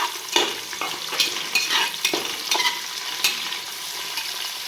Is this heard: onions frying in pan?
yes